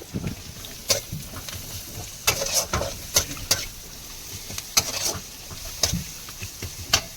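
Garlic sizzling in a pan over a low steady hiss, with repeated sharp scraping stirs at irregular intervals, close and fairly quiet, with no talking.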